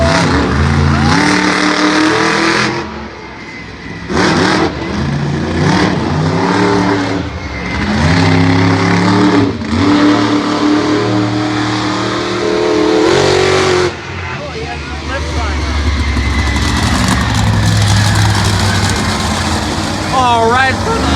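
Monster truck built from an F-150 revs its engine loudly at an outdoor smash event, then crushes a red Mercury sedan, with repeated throttle surges, shifting pitch and shouting people over the roar.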